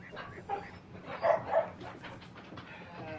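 Dogs barking indoors at a house, a few soft barks and yips mixed with whimpering, heard faintly amid background noise from a television or game.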